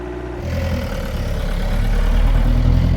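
Ford Transit 2.5 litre diesel engine running, a steady low rumbling drone heard from inside the van that grows slightly louder and heavier as it goes on.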